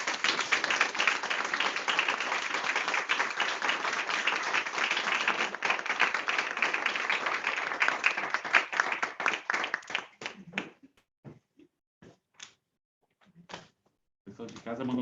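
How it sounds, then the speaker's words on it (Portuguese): An audience at a spiritist group gathering claps loudly and continuously for about ten seconds. The clapping then thins to a few scattered, isolated claps with gaps between them. "O pessoal de casa mandou um monte de aplauso também."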